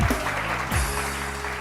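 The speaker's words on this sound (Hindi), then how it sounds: "सलमा आसिम, बहुत सारी तालियां सलमा आसिम के लिए" Audience at a Pakistani celebrity gathering clapping for a guest, a continuous burst of applause with a faint music tone underneath, fairly loud and close.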